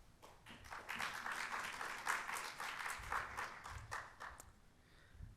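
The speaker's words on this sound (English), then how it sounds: "So I'd like to give a round of applause to Marcelo Hidalgo to tell us more." Audience applause fills a conference session on crew welfare in the tuna industry, steady and moderately loud with dense overlapping claps, then tapering off near the end.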